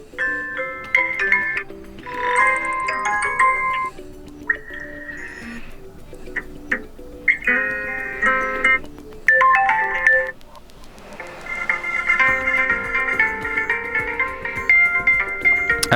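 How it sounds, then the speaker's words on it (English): Several preset ringtones on a Vivo S1 phone play one after another, short synthetic melodies and chimes with brief pauses between them, clear and close. "there's also some of the preset ringtones"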